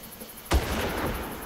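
A single sharp gunshot from enemy soldiers in the video game Far Cry, a sudden close crack followed by a sustained rumbling in-game ambience with no voices.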